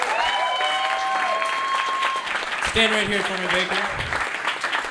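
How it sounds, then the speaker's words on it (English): Comedy club audience applauding during a live stand-up set, a broad steady wash of clapping filling the room while someone speaks over it near the microphone. "Guys, give Baker a round of applause."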